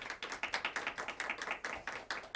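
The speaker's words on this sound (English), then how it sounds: "Our judges, please give them a round of applause" An audience at a school debate round applauds the judges with a brief, quiet patter of claps; individual hand strikes stand out in a loose, fairly rhythmic series from a small crowd heard at some distance.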